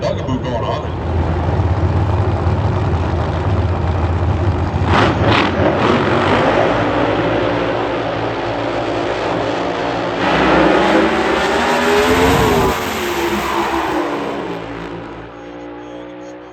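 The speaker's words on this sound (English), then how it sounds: "Best run Brian Gallick has made, and it's going to be enough" Top Alcohol Dragster and Funny Car at an NHRA Lucas Oil Series Division 1 drag race roar down the strip, a loud sustained engine run with a rising pass, heard under an excited announcer's commentary.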